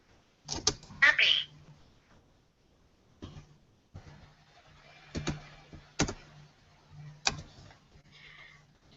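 Computer keyboard typing in WordQ word-prediction software, scattered sharp key clicks in short bursts with quiet gaps between, near and fairly faint.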